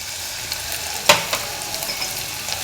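Small shallots, pirandai (adamant creeper) and spices sautéing in hot oil in a pan, giving a soft continuous sizzle with one sharp scrape of a spoon near the middle and a few lighter clinks after.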